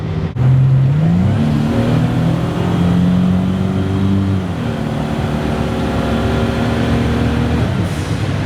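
A 400-horsepower Pontiac Fiero with a swapped Pontiac GTP engine and automatic transmission revs up steadily, its pitch climbing, dipping briefly as the gear shifts, then rising again into a strong, loud whine.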